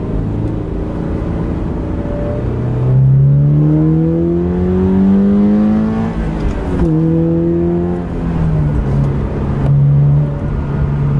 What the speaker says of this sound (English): Let's see how much better I can get the intake sound.